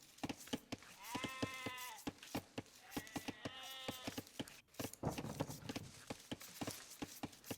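Sheep bleating in Age of Empires, two clear nasal bleats among steady rapid clopping and clicking game sounds, fairly quiet and without talk.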